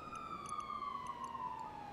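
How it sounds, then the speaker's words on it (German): Wailing ambulance siren in GTA Online, a steady tone gliding slowly downward as the emergency vehicle drives past, loud and continuous with no talk over it. "Da kommt der Krankenwagen"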